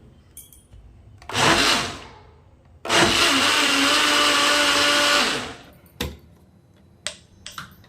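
A kitchen blender grinds raw mango with cumin powder for a summer drink in two bursts, a short whir and then a longer steady run of about two and a half seconds. A few clicks and knocks follow.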